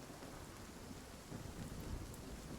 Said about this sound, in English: Wow, it is really raining like crazy.